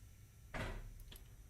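Passenger train doors opening in the Train Sim World 5 game on the Zwolle–Groningen line: a soft pneumatic hiss and thump, followed by faint clicks, quiet and brief.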